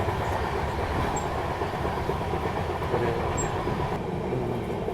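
A passenger train bound for Jhansi rolls along the rails in summer heat, heard from near an open door as a loud steady rumble with rhythmic clickety-clack and faint wheel squeal.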